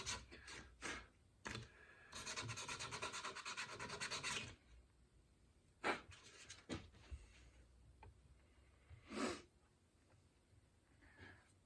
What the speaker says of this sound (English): Take our pencil, maybe make it sharper here. So I take some sandpaper